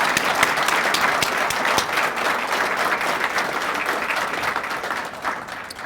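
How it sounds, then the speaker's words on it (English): Sustained audience applause fills a police awards ceremony hall, a dense steady clatter of many hands clapping at close range for nearly six seconds, fading slightly toward the end. "Let's give him one big round of applause again,"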